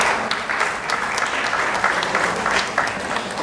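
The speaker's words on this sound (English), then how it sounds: "A big round of applause for all of them." Steady, full applause from the audience at a bonsai society's golden jubilee celebration, honouring the bonsai demonstrators; many hands clap continuously throughout.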